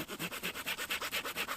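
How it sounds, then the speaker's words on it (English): A knife chamfers the cut tip of a wooden lavvu pole in a wild camp, giving a steady run of rhythmic rasping scrapes, about eight strokes close up with no talk. "I'm just going to sort of chamfer the tip off."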